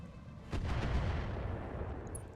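Weapon rack on a mech firing in a video game, a dense booming salvo of artillery-like blasts with rumbling low end that swells and slowly fades.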